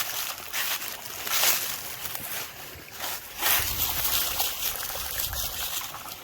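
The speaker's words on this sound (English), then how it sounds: "Love my little creek." A small spring creek trickles and splashes, a broad steady gurgle of water with louder surges, close by and with no talk.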